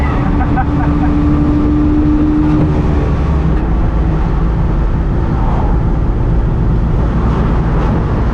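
A 1985 Trabant 601s two-stroke engine strains at full throttle, giving a loud, steady buzzing drone inside the car while a person talks over it.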